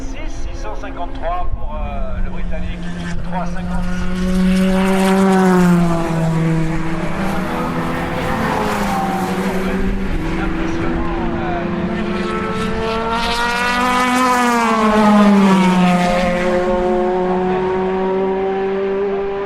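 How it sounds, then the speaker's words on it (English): An LMP1 endurance racing car roars past with a high, rising and falling engine whine, loud and close, swelling as it approaches and fading away. "Okay, one last car."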